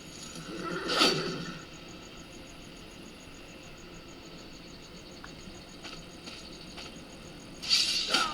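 A video-game horse whinnies loudly at the start, then a quieter stretch of faint rattling and background hum, before another sharp neigh near the end.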